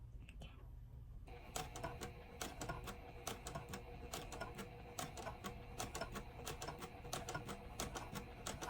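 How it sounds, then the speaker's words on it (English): A sewing machine stitches a boxed fabric pouch, its rapid mechanical clatter running steadily after a short quiet start, with soft speech faintly underneath. "we're gonna sew to about right to the end, but we try not to go over"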